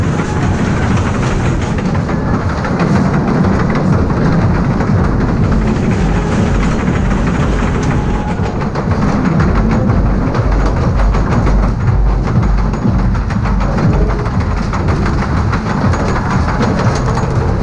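A loud, continuous rattling clatter of a 1920 wooden roller coaster train, the Scenic Railway at Dreamland Margate, rolling over track, with rhythmic clicking under steady mechanical rumble.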